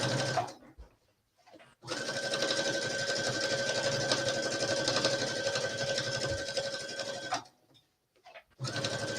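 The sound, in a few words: sewing machine stitching a pocket flap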